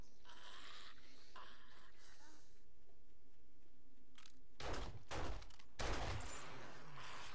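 Gunshots in the zombie survival video game 7 Days to Die: a few loud, close bursts of fire clustered in the last few seconds, following a quiet stretch.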